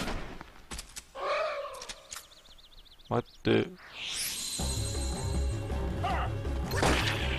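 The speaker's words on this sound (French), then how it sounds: "Pourquoi il y a eu des explosions?" Explosions from the Kingdom Hearts video game: sharp crashing blasts and smashes come in bursts, followed by a sustained roaring, rumbling tail layered with whooshing game effects, while a player briefly speaks.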